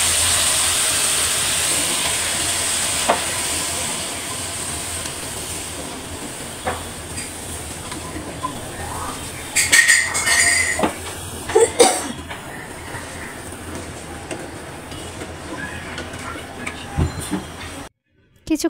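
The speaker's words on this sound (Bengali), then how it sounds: "পেঁয়াজ এবং কাঁচামরিচ হালকা করে ভেজে নেব।" Onion and green chili with water lily stems fry in a wok with a steady, even sizzling hiss, broken by a few brief clatters of stirring before the sound cuts off near the end.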